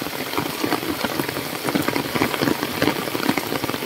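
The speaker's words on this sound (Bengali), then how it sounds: "প্রচুর বৃষ্টি হইতাছে।" Heavy rain pours down on a village home on a wet winter morning, a dense, continuous patter of drops striking surfaces close by, with no voices.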